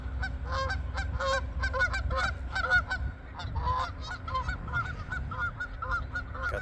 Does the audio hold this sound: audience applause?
no